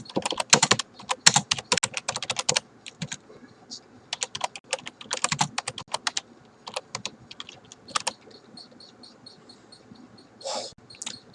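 Quick, uneven bursts of typing come from a computer keyboard while text is entered in the VS Code editor. The clicks are close and clear, with short pauses between runs of keystrokes.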